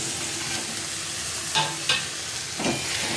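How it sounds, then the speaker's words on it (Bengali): Fried jackfruit, prawns and potatoes tipped into hot masala in a pan, a steady loud sizzle with a few sharp bursts of spattering and stirring scrapes, no voices. "এবার আমি দিয়ে দেবো ভেজে রাখা এঁচোড় চিংড়ি আর আলু সব একসাথে আমি দিয়ে দিলাম।"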